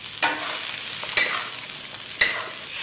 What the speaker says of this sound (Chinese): 倒入煎好的鱼头块一起炒制几下